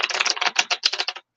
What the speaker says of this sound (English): I've shuffled the cards. I'm shuffling them again.